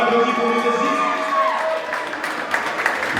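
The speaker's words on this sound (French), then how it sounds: "On applaudit pour Miss SJ." An audience claps and cheers for a beauty queen, Miss SJ, at a festive evening event, sustained applause filling the room over lingering music tones that fade out midway.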